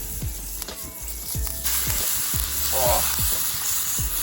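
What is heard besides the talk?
butter sizzling in a camping pan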